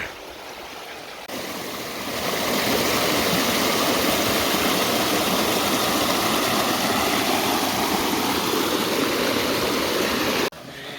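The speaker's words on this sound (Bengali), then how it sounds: "এটা হচ্ছে আমাদের প্রথম ঝর্ণার মুখ।" Stream water rushes loudly and continuously at the mouth of the first waterfall on the Napittachara trail in Bangladesh, a dense, steady roar with no voices.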